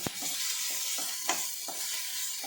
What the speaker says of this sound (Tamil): தக்காளியும் மல்லி இலையும் நம்ம சேர்த்துட்டு அதையும் ஒரு வதக்கணும்